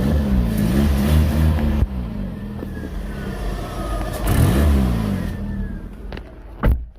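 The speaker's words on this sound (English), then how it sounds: "What I did notice is there is a blow on the exhaust." A 2010 Ford Ka Titanium engine idles and revs with a blowing exhaust leak, a close, rough, throbbing drone that swells with a rev midway and ends in a brief sharp burst.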